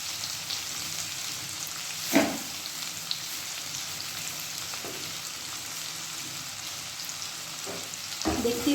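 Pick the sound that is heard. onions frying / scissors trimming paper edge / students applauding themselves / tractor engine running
onions frying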